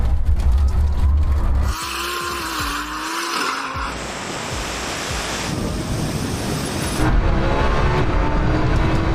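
An 1800 HP Lamborghini and an electric Rimac Nevera hypercar drag race from a 30 mph rolling start, with a loud, close engine roar climbing in pitch, a rising electric whine and heavy rushing road and wind noise.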